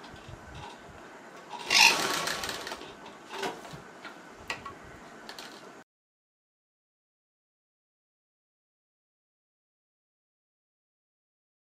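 A sewing machine stitches a half collar for about six seconds, a close, steady mechanical whir with ticking, before stopping into near silence.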